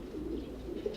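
A pigeon of a self-bred Carlos Black line coos softly, one faint, low, continuous call heard alone.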